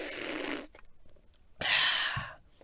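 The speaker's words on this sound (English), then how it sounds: "That is the sound of water" Water being poured or splashed, a broadband rushing burst of about half a second, then a quieter gap and a second louder rush of water lasting nearly a second, close and fairly loud with no talk.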